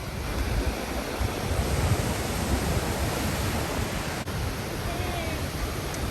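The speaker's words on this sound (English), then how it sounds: "The waves are very big." Big ocean waves break at Kugenuma Beach in Japan, a loud continuous wash of surf with wind buffeting the microphone throughout.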